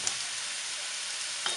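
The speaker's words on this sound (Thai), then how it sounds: "ผัดนิดเดียวเองนะคะ" Shredded bamboo shoots and egg stir-frying in a pan, a steady close sizzle with a faint scrape of stirring near the end.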